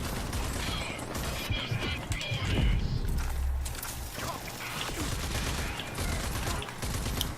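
Gunfire in the Rage 2 video game, a rapid, busy stream of shots and impacts with crashing bursts and a deep thump midway, set under low talk.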